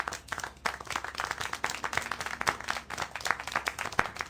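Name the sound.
clapping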